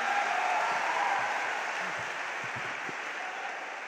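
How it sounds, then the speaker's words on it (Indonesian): Loud, sustained audience applause fills a large hall at a motivational seminar, a dense steady wash of clapping that fades slightly toward the end with no talk over it. "yang tepuk tangannya keras"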